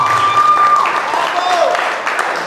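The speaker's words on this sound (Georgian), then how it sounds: "აპლოდისმენტები!" Audience applause at a GAMA FURY ceremonial fight weigh-in: loud crowd clapping with a few sharp whistle-like tones rising over it, fading slightly toward the end.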